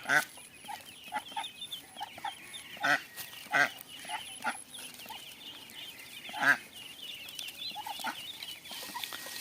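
Ducks and ducklings call in short bursts, with a few louder squawks rising over a steady chorus of faint peeping.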